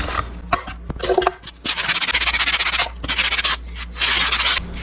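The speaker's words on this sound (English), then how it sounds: "Okay, so I'm going to sand off that spot." Dried wood filler is sanded off a wooden piece by hand in loud, close strokes that come in bursts of rhythmic scratchy rubbing separated by short pauses.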